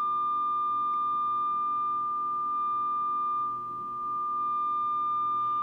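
A computer plays a high audio test tone for FM digital amateur radio, a steady pure whistle held unbroken and moderately loud over faint background hiss, with a slight dip near the end.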